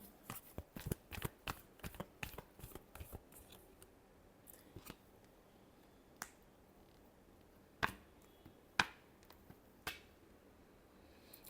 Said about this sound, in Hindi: कैंसर के लिए। Last shuffle.